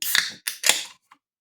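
A can of Madri lager cracked open: a sharp snap followed by two more crisp metallic clicks and hisses in quick succession, close and fairly loud, then a couple of faint ticks.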